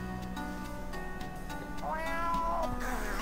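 Cat in a video game meows, a drawn-out rising and falling cry near the end over a steady background hum, preceded by softer tonal sounds.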